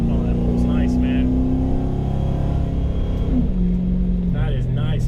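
A Crown Victoria with loud exhaust pulls hard, its engine drone rising and holding strong close by while someone talks over it.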